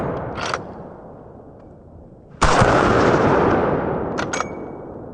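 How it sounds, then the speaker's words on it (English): A .44 Magnum handgun fires one heavy, sharp blast at close range; the boom rolls out into a long, roaring echo that fades slowly, with a few faint clicks and knocks before and after. "according to Dirty Harry, this is the most powerful handgun in the world that'll blow your head clean off"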